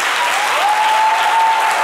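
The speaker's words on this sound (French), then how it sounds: "je pense qu'on devrait applaudir" A studio audience bursts into loud, sustained applause, dense clapping close by with a steady tone sounding faintly underneath.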